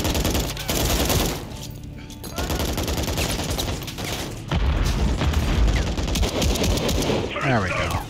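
Heavy gunfire in the shooter game Modern Warfare III: dense, overlapping bursts of automatic shots and booms that run almost without a break, loud and close, with the odd voice mixed in.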